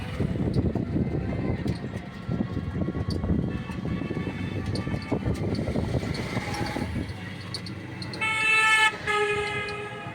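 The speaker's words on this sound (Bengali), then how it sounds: "এটা কৃষ্ণনগর হাইওয়ে।" Busy traffic on the Krishnanagar highway rumbles steadily with engines passing, then a loud, sustained car horn blares near the end and sounds again briefly, no talking.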